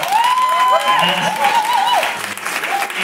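Theatre audience applauding after a performance, sustained clapping with cheering and whistling voices over it, loud and close throughout.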